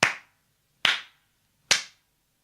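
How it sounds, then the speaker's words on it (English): Three sharp hand claps, evenly spaced about a second apart, each crisp and isolated with silence between. "the eldest princess clapped her hands 3 times"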